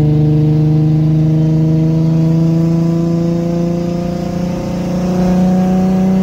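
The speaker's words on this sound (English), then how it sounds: "Just listen to that turbo spool though." A turbocharged 600whp Infiniti G35 driving on a cold night, its engine holding a loud, steady harmonic drone with a slight dip and recovery near the end, close and continuous with no talking.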